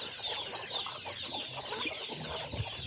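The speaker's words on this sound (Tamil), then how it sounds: "பாருங்கள், கோழி கோழி எவ்வளோ ஆக்டிவாக இருக்குன்னு பாருங்கள்" Free-range farm chickens cluck in short, busy bursts close by, several birds overlapping at a moderate level with no talk.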